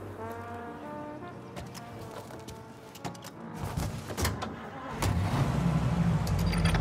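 In the video game Mafia Definitive Edition, a car engine cranks and catches, then settles into a rising, rumbling run as the vehicle pulls away, loud and close, with clicks and clunks over the top.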